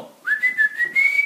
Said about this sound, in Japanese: 大音量が出る口笛ですね。